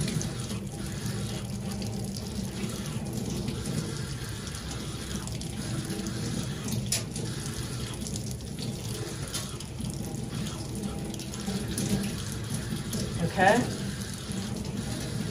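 A stained glass sun catcher is rinsed under a running sink tap, giving a continuous splashing water stream close by, with a brief spoken word and a short louder splash near the end.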